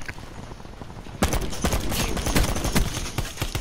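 Rapid video game gunfire in a gun game match, a dense burst of repeated shots kicking in after a quiet second and continuing steadily to the end.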